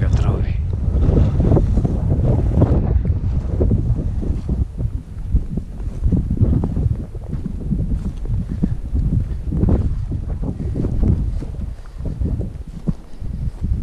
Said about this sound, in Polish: Wybaczcie wiatrowi, wybaczcie wiatrowi.